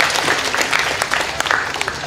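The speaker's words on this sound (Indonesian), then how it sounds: "Tepuk tangan sikit untuk Ain." Audience applause at an Islamic lecture in a hall, a dense burst of many hands clapping that stays steady and fairly loud for about two seconds, with no speech over it.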